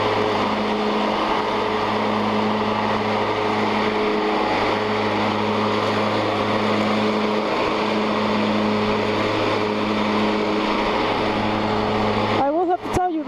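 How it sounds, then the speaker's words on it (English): A lawn mower runs continuously close to the microphone while cutting grass, giving a loud, steady engine drone with a constant hum that stops abruptly near the end. "so that I can finish mowing this lawn properly"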